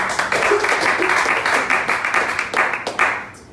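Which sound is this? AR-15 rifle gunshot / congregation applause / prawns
congregation applause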